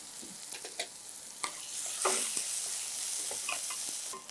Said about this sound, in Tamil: இந்த வெங்காயம் சீக்கிரம் ஃப்ரை ஆகிறதுக்காக